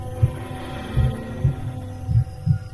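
A low, muffled heartbeat thumps about five times over a steady hum, the beats slightly uneven and fairly quiet.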